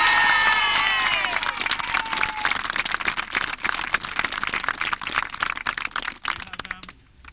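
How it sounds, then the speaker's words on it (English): Crowd cheering, clapping and shouting for a junior B county final team at a parish gathering, loud and sustained, with a whistle-like shriek at the start, dense applause throughout and fading near the end. "so they need a cheer first of all."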